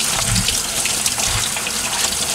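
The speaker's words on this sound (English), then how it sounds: "you rub it through it with your hands and rinse it out with hot water" Tap water splashes as an ATV air filter is rubbed and rinsed by hand, a loud, close, continuous gush with brief sloshing surges.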